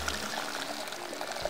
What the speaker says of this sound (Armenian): Ավելացնում ենք ջուր։